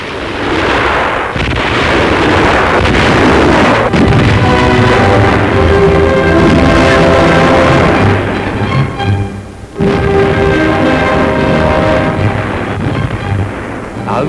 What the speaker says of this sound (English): This rocket barrage shows for the first time the original packing cases of the rockets in use as the